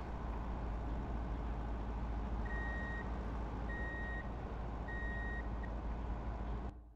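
Reversing beeps from a MAN truck in Truck & Logistics Simulator, three evenly spaced electronic tones over a steady low engine drone that cuts off just before the end.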